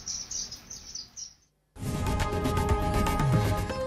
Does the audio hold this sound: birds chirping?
yes